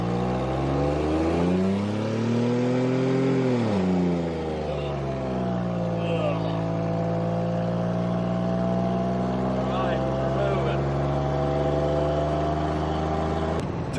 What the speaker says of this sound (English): first we'll break in real quick with a little burnout here